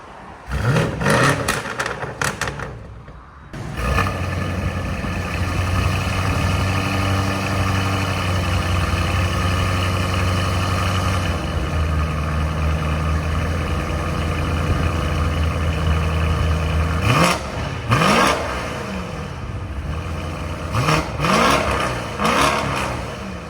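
BMW M850i 4.4L twin-turbo V8 with catless downpipes and an X-pipe, idling with a steady deep rumble, then sharp revs that rise and fall at the start and again near the end, loud and close.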